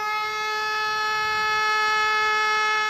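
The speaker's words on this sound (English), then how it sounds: "one morning the siren just blasted out of nowhere" A loud, sustained civil defense siren wail in Germany holding a steady pitch, blaring continuously without pause.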